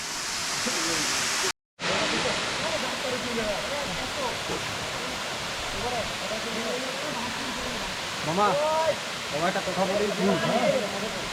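Ham Ham waterfall pours in a steady, full rushing roar with a brief dropout near the start, while birds chirp and call over the water noise.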